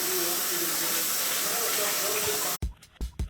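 Steaming hot water for Rit dye gives a steady, loud hiss for about two and a half seconds, then cuts off abruptly into a few short bursts of noise.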